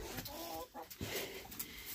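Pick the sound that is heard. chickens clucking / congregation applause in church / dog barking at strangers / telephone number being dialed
chickens clucking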